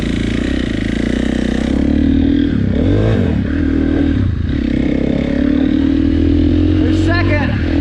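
A KTM 450 motorcycle on a test ride, its engine droning steadily and loud throughout as it shifts through the gears, with clattering and pitch swells under a voice talking.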